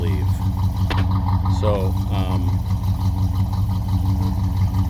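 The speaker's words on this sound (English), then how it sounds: "It's got a pipes dual exhaust system on it" A 1968 Pontiac GTO 400 HO idles through its dual exhaust with Street Pro mufflers, a steady low rumble, while a person talks over it.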